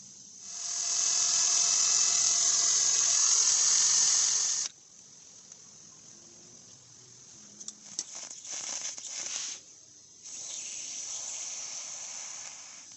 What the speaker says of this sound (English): I'm going to have to clear that out with a drill.